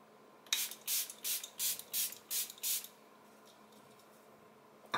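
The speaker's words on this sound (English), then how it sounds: "so let's get out the setting spray." A makeup setting spray bottle is pumped seven times in an even rhythm, each short misty hiss close to the mic, followed by quiet.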